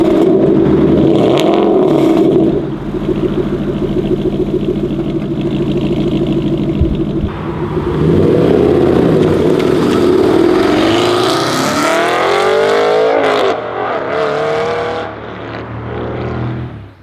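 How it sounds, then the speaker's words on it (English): A 2017 Aston Martin GT8 with a titanium exhaust system revs loudly and close by. The engine climbs and falls in repeated surges with crackling, rasping rises and no voices. "At the rear, we find the titanium exhaust system,"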